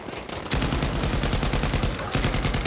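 Light machine gun fired from the hip in a video game, a loud sustained burst of rapid automatic shots in a steady rhythm, briefly dipping before the fire resumes.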